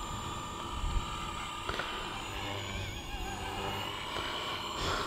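A radio-controlled helicopter flies and performs a flip, giving off a steady, fairly faint whine and hum with slight changes in pitch and no clear voices.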